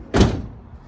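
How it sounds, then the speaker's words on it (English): Rear door of a 2018 Coachmen Crossfit camper van shutting, a single loud, close thunk followed by a brief fading rattle. "Left door closes first and then the right."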